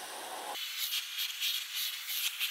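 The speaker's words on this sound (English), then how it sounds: "I don't think you need to have the steam, but for some reason I always have the steam" A steam iron hisses steadily while pressing iron-on fusing onto fabric for a crumb quilt, a close, continuous airy rush with slight swells, following a brief rubbing sound at the start.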